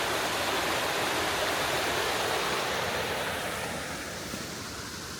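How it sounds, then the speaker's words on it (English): A waterfall roars in a dense, steady wash of falling water heard near and loud, easing slightly toward the end, with no voices. "There's the waterfall."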